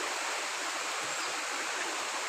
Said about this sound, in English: Very nice sound of water